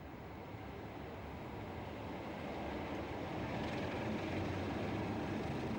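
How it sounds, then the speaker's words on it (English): A Rail Freight class 47 diesel locomotive hauls a military defence train from Marchwood to Didcot Yard, a steady, fairly faint engine drone and rolling rumble heard from a distance that grows slightly louder. "a Rail Freight 47 works a military defence train from Marchwood to Didcot Yard"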